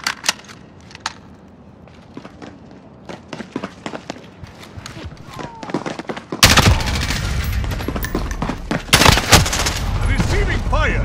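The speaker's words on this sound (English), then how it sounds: "Receiving fire." Gunfire in a multiplayer video game: scattered distant shots and clicks at first, then a loud close volley of rapid automatic fire and a second heavy burst near the end.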